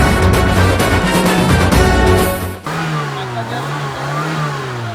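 A car engine revving hard under the accelerator, loud and close, surging for a couple of seconds before dropping back to a steady lower running drone, with voices faintly mixed in.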